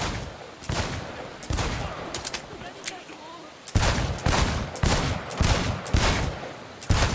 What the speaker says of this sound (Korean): 십이 초야 쏴! 쏠 때 선은 넘어가지 마.